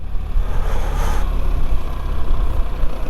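A BMW R1300 RT motorcycle rolls along at low speed in first gear, its steady engine drone mixed with heavy wind rumble and road noise, loud and continuous throughout.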